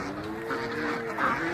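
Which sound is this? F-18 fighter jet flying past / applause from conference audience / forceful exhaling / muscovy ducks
muscovy ducks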